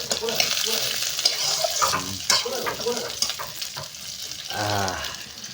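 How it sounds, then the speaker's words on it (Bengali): Garlic fries and sizzles in a pan while a metal spatula stirs it in scraping strokes, with clatter and some running water from a nearby tap, close by under intermittent talk in a home kitchen. "আর ওইখানে রসুন বাড়ছে হুম আর আমি একটু খুন্তি নাড়িয়ে দিই"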